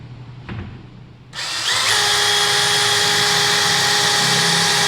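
Power drill pre-drilling into old wood on a plywood rabbit enclosure: a faint knock, then the motor spins up and holds a steady, loud, close high whine with a continuous bright tone.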